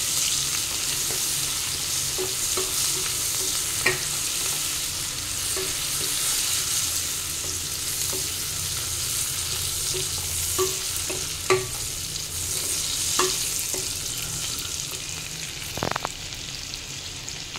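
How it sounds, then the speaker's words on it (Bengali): Pointed gourd frying in a pan with ginger paste, cumin and coriander powder, stirred steadily under a constant sizzle, with occasional soft scrapes and taps of the spoon against the pan. "এবার আমি জিরে আর ধনে গুঁড়োটা অ্যাড করে দিচ্ছি। এবার এটা ভালো করে মিক্স করে নেব।"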